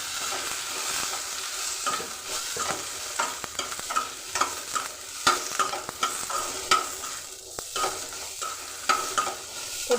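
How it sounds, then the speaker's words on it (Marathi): Chopped tomatoes and browned onions sizzle and fry in a pan for a soybean vegetable dish, with a spoon repeatedly stirring and scraping through them, close and steady with no talking. "आता आपण ह्याच्यामध्ये टोमॅटो टाकून घेऊया. तेही थोडं 2 मिनिटं आपण परतून घेऊया."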